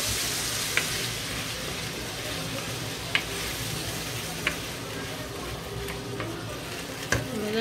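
Chickpeas, onion, bacon and garlic fry in a pan with a steady, loud sizzle that runs throughout, while a utensil scrapes and stirs and a few sharp clicks ring out against the pan.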